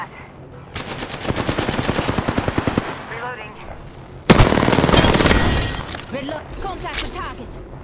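Automatic gunfire in the video game Apex Legends rattles in a rapid burst, then a louder second burst cuts in sharply, with game effects and chatter mixed around the shots.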